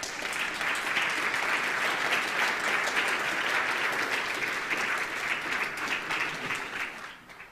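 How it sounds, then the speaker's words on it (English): Sustained audience applause at a Bitcoin conference stage fills the space, a dense even wash of many hands clapping that holds steady for several seconds before tapering off at the end. "Can we have another round of applause for Akin?"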